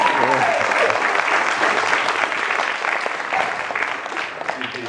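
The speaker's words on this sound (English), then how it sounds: "yeah, you can clap for them." Audience applause at a thesis reading, honoring the thesis readers: a dense, steady wash of clapping that fills the whole stretch at full strength and eases only slightly toward the end.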